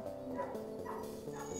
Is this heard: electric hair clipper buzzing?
no